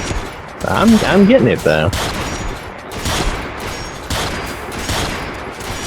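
AutoMag pistol fire in Fallout 4, a series of sharp shots spaced out at a slow deliberate pace, loud and close, with someone talking briefly over the early shots.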